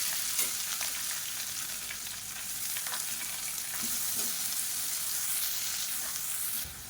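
Onion, mustard seeds, urad dal, chana dal and curry leaves sizzle in hot oil in a pan for tomato rava kichadi, a loud, continuous crackling fry with occasional stirring and no talk.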